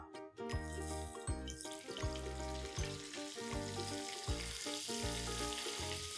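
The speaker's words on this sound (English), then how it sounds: "I've heated a tawa here. I'm going to add 2 tablespoons of oil to this. and a tablespoon of butter" Oil and butter sizzling on a heated tawa, a steady close sizzle with repeated metallic clinks and scraping, no talking.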